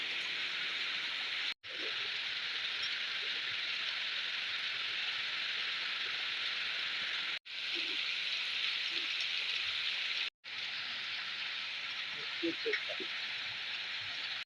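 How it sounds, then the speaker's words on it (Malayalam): Heavy rain pours down outdoors near a kitchen, a dense, even hiss that continues steadily with brief gaps, with faint background sounds and no speech. "നല്ല മഴയാണ്"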